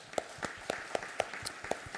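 A church congregation applauding during a Sunday worship service, heard as a faint, sparse scatter of separate claps in a loose, uneven rhythm from a distance.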